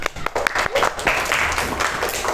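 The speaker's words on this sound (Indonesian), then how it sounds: "beri tepuk tangan buat Ananda" A classroom of students applauding a classmate, a burst of scattered close claps that thickens and then trails off, with a voice speaking near the end.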